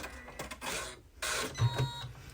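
A sewing machine stitches a closure on a fabric project, giving short mechanical bursts of stitching, fairly faint and close, with brief pauses between runs.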